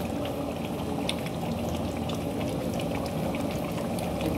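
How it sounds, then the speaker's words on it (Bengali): Chicken with salt bubbling in a pot over a gas flame, a steady, close, continuous simmering boil with soft popping bubbles throughout and no voices. "দেখো বন্ধুরা কিরকম চিকেনটা ফুটছে"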